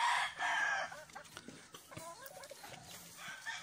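A rooster crows briefly in a backyard farm, a loud close call at the start, followed by softer clucks and scattered fowl sounds while someone speaks nearby.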